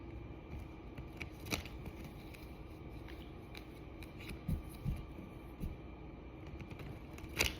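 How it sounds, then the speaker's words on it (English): A deck of tarot cards is shuffled by hand in a quiet room, giving soft, close riffling and tapping with a few sharper snaps scattered through a low hum. "Just gonna shuffle the cards real quick"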